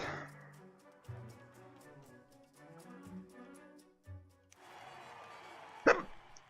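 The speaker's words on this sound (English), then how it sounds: "Can you guys even stand listening to me with hiccups?" A person hiccups several times, each a short abrupt catch, heard over steady background music from a city-building computer game.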